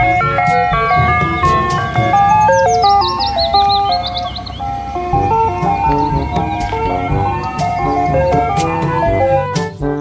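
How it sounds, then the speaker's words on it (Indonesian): A toy ice cream truck plays its bright, tinkling electronic jingle close by, a repeating melody with clip-clop-like percussive ticks and a brief chirpy warble, while a voice is almost absent. "lihat di sini ada mobil es krim"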